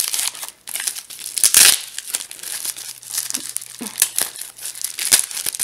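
Plastic and paper packaging from a My Little Box subscription box crinkles and tears close by as it is opened by hand, in irregular bursts of rustling.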